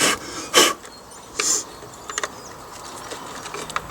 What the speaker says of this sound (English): Just trying to get rid of some of the grip from where the bolt is.